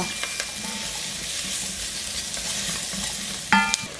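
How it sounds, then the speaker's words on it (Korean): Onions with a pinch of salt sizzle steadily in two tablespoons of hot oil in a pot, a constant crackling hiss with a brief clink of a utensil near the end. "소금 1꼬집과 오일 2큰술 넣어 살짝 볶으시고요"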